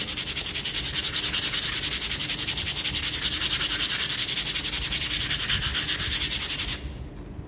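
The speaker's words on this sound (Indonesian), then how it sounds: "Mungkin mulai dengan yang amplas 180-an, digosok aja gitu." Steady rapid scratching of 180-grit sandpaper rubbed back and forth over dried Korean glue on a table tennis blade, close and loud for several seconds before stopping abruptly.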